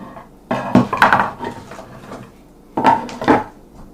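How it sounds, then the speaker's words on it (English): A knife cuts through a lemon on a wooden board in a kitchen, two short bursts of knocking, clattering chops separated by a pause, close and fairly loud with no talking. "we're going to cut up some of this lemon"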